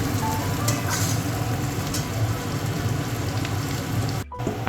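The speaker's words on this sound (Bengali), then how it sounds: "আলুটা আমি লাল লাল করে ভেজে নেব" Potatoes fry in hot oil in a kadai, giving a loud, close, steady sizzle and crackle throughout with a brief dip near the end.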